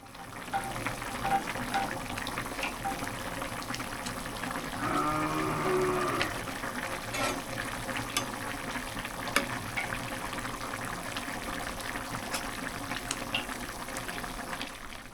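Snakehead fish curry simmering in a pan, a steady close bubbling and gentle sizzle that runs unbroken throughout with no voices.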